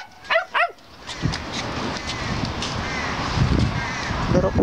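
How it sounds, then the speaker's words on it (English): Two quick high-pitched yaps from a small puppy near the start, followed by steady background noise and faint shuffling. "Little puppy yap."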